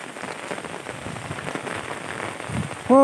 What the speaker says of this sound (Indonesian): Alah, hujanan. Hujan anyar, Jang.